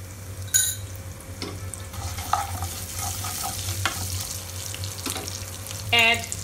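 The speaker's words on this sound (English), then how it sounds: "Our oil is nicely heated up. So put 1 tablespoon of jeera, that means cumin seeds, 1 tablespoon of mustard seed," Cumin and mustard seeds sizzling in hot oil, a close crackling fry with scattered pops and a few sharp clinks, no voices.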